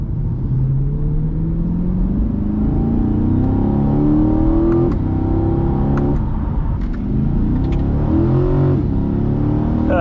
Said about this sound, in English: The way this V8 screams is absolutely incredible.